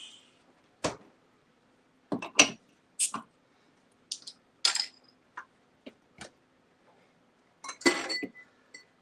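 Clinks of a pint glass being handled while a Corona summer drink is served, several short bright taps scattered over a quiet background.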